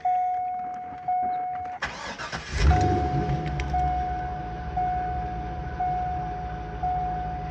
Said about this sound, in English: you'll hear how beautiful this car sounds too